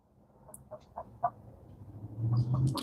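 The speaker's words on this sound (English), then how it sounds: "The birds are being noisy." Chickens at a backyard flock cluck in a few short, separate bursts, then a louder, denser squawking builds toward the end, fairly close and with no talking.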